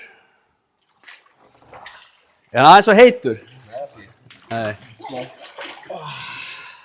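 Water sloshes and splashes in a Queen Plug&Play geothermal hot tub as people climb in, with the splashing mixed under short bursts of conversation.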